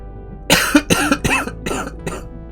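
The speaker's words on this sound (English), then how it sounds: "the coughing is more frequent and a little worse" A person coughs in a burst of about five harsh, close coughs over two seconds, loud and dry with no other sound.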